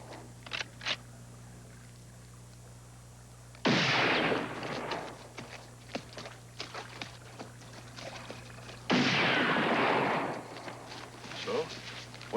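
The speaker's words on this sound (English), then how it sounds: "Shooting at bottles." Kids fire guns at bottles in a film scene, heard as two sharp, distant-sounding cracks with lingering echo, separated by several seconds, with quiet dialogue and a low steady hum in between.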